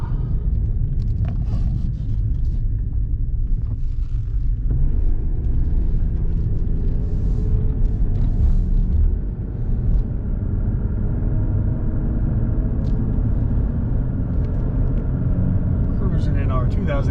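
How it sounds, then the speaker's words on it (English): A lifted and modified 2018 Jeep Renegade four-wheel drive on brand-new all-terrain tires cruises along, a loud, steady low rumble of engine and road noise heard from inside the cabin, with talking over it. "Cruising in our 2018 Jeep Renegade four-wheel drive that we just lifted and modified."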